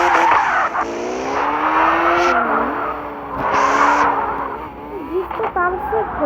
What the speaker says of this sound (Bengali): ড্রিফটটা পারফেক্ট হয়ে গেছে, মনে হয় পারফেক্ট হয়নি।